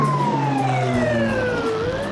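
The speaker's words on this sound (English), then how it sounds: "And that siren you hear there," An emergency siren sounds the all clear at a forest fire site in British Columbia, a loud wailing tone sliding slowly downward and then starting to climb again, steady over an engine hum.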